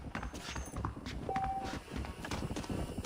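Horse hooves clop along in the Red Dead Redemption video game, a soft rhythmic patter of steps under steady ambient game noise.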